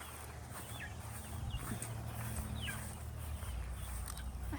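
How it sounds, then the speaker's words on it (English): Faint, high chirps of a baby chick repeating at intervals over a noisy outdoor background with low rumble. "I hear a baby chick."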